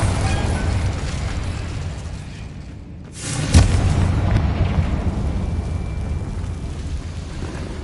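Incendio and Frigo spells cast in Hogwarts Legacy, heard as a sudden booming magical burst about midway through, followed by a lingering crackle over a continuous low rumble of game ambience.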